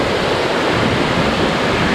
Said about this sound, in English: I think I hiked all the way down here just to see this waterfall.